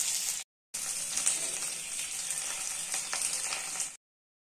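Fish sizzling steadily in a hot pan for Kerala meen pollichathu, wrapped in banana leaf, a dense continuous crackle with a brief break, close and fairly loud with no talking.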